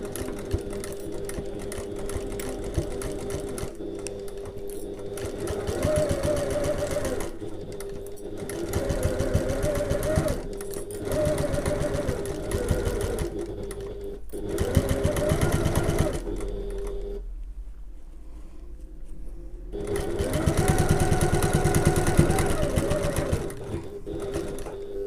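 A sewing machine stitches a very close seam on a tote bag, running in repeated bursts of rapid mechanical whirring with short pauses, near and fairly loud.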